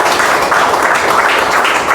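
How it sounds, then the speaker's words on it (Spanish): A church congregation breaks into steady, sustained applause, many hands clapping at once in a dense, continuous wash that stays loud and even throughout, with no talk over it. "den un aplauso al Señor."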